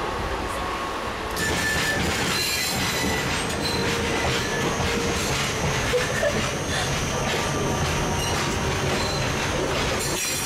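Passenger train rolling across India on a long overnight journey, a loud continuous rumble of wheels on track with metallic squeal and clatter filling the carriage throughout.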